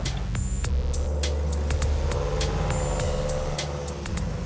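A mini truck with a 2.4 liter four-cylinder engine and dual Weber carburetors drives along, its low engine drone steady and close, with cab rattles and clicks scattered on top.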